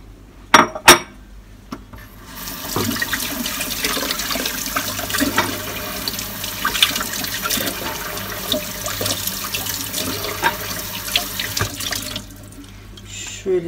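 Tap water runs steadily into a kitchen sink while mushrooms are washed and peeled for a mock pizza, a continuous close splashing flow after a couple of sharp knocks, with faint clinks of dishes.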